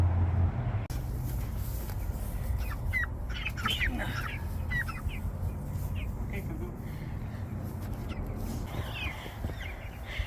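Three-week-old ducks out on grass for the first time call and squawk in short, scattered cries over steady outdoor background noise, with other chickens nearby.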